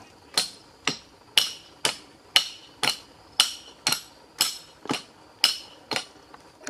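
Climbing pegs in a tall tree are struck while the climber descends. A steady series of about thirteen sharp, ringing hammer blows sounds close, at roughly half-second intervals, with no talk.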